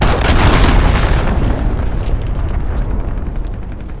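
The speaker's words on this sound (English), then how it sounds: "Enemy cruise missile incoming." A cruise missile explodes in Call of Duty: Modern Warfare, a loud deep boom that swells at the start and rolls into a long rumbling decay lasting several seconds.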